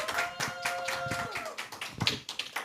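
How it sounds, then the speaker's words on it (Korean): Scattered clapping from a small group at a church health lecture, uneven and light, with faint voices mixed underneath. "박수."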